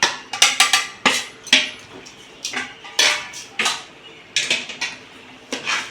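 A metal spoon stirs prawn biryani masala with salt and chilli powder in a cooking pot, giving a series of sharp clinks and scrapes against the metal, close and fairly loud, in irregular bursts with no talking.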